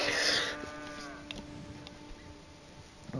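A cow on a farm in Red Dead Redemption 2 lets out a low, drawn-out moo at fairly close range, fading after about a second, followed by quiet ambient farm noise and a few small ticks.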